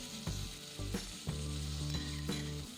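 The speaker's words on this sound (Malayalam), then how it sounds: "ഇനി സവോള ഇട്ട് കൊടുക്കാം." Thick-cut sliced onions frying in a hot pan for a chicken mulakittathu curry, a steady loud sizzle with several bursts as pieces drop in and get stirred, close and alone with no talk.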